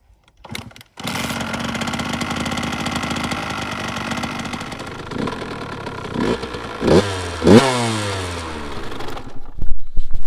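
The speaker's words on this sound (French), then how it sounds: "je vais laisser chauffer un peu la moto" A motorcycle engine starts up and idles with a steady rumble, then is revved a couple of times before settling back to idle.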